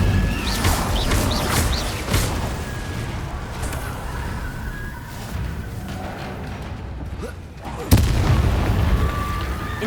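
Incendio fire spells are cast in Hogwarts Legacy, bursting as loud whooshing blasts with crackling impacts over ongoing combat noise. A sharp burst comes near the end after a brief lull.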